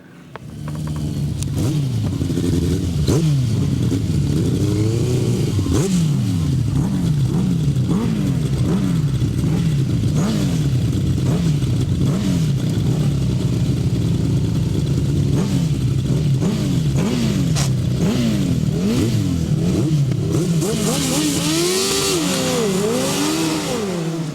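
Grasstrack sidecar outfits on a dirt track roaring off the line in a left-hand race, loud close engines revving and rising in pitch repeatedly, a sustained howl of accelerating motors that continues throughout.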